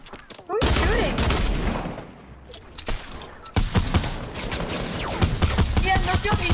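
Rapid bursts of gunfire from the video game Fortnite, loud and dense, broken by a short lull before resuming, with players talking over the shots.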